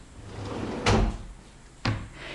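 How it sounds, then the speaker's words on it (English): A soft-close wardrobe door in a newly renovated Moscow apartment shuts twice, each time with a short, muffled thud over a quiet room hum. "Here is a special system that makes the door close very, very quiet."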